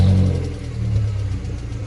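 A Subaru WRX's engine rumbles loudly and steadily close by, a deep mid-pitched revving drone that swells slightly and then holds, with no one talking over it.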